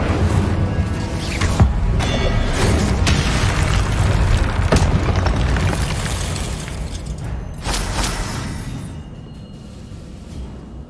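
Fiery spell blasts in the Hogwarts Legacy video game, the Confringo and Incendio spells bursting as loud booming, crackling explosions over a dense rumbling game soundscape, with sharp hits scattered through.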